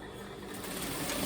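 A sewing machine runs steadily, stitching a satin pillowcase with a continuous close buzzing hum that builds slightly toward the end, heard alone without talking.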